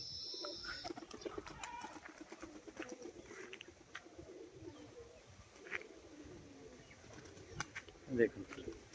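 Male and female pigeons coo softly and intermittently in an open setting, faint and low under a voice, with a louder flutter or call near the end.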